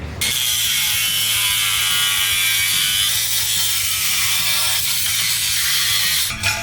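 Clamps come off a car body panel with a loud, sustained ratcheting, grinding mechanical rasp, close and continuous for several seconds before stopping abruptly.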